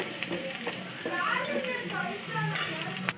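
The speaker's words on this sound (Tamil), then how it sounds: "வெங்காயத்தை போட்டுக்கலாம் போட்டு இது நல்லா வணக்கிடலாம்" Onions sautéing in a pan for street-style mushroom masala, a steady broadband sizzle with scraping stirs throughout, under a voice talking.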